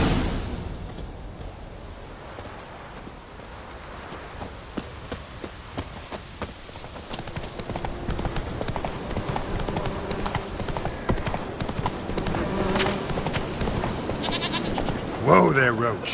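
Horse hooves clip-clopping in a steady trot as Geralt rides Roach in The Witcher 3, close and continuous under game ambience, with speech and faint bleating livestock sounds scattered through.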